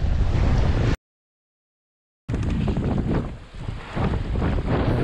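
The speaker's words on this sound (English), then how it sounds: "This wind has really picked up" Strong wind at sea buffets a microphone aboard a sailboat, a loud roaring rush with heavy low rumble, broken by a short total dropout before the gusting resumes.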